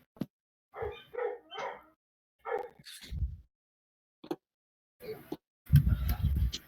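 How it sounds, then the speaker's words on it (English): Several dogs barking in short bursts, a quick run of close yaps followed by scattered single barks and a louder, busier burst of barking at the end, with quiet gaps in between. "Sorry about the dogs."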